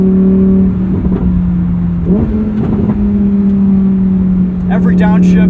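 A Lamborghini Huracan engine drones loudly up close with a sustained tone that steps up as the throttle is applied, while a person talks over it.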